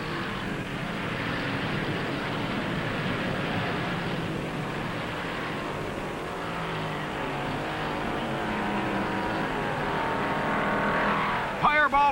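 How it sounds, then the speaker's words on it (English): A 1958 Chevrolet stock car in the closing mile of the Southern 500 NASCAR race, with a sustained loud engine roar that holds steady throughout, ending with a few brief sharper bursts. "Roberts is wheeling through the last mile smoothly and steadily."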